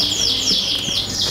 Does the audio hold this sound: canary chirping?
yes